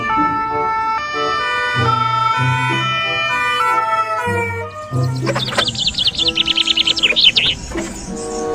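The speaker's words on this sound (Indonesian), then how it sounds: "Wadidaw, yang ini mobil ambulans." A toy ambulance plays an electronic siren, first a stepped chime-like melody, then a fast warbling wail that pulses loudly near the end.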